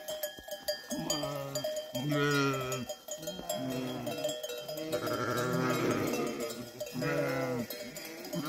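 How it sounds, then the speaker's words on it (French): Sheep bleat repeatedly in overlapping wavering calls, fairly close, with a cowbell clanking in the background, near Ioánnina, Greece. "et là on a les moutons"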